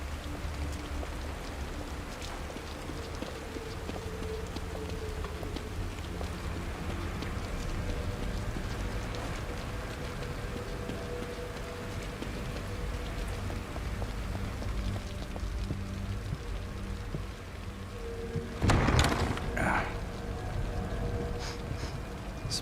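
Steady rain pouring down in the horror video game The Evil Within, a continuous hiss of falling water with a low rumbling bed, joined near the end by a brief louder burst.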